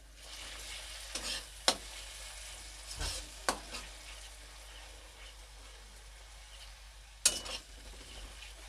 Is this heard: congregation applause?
no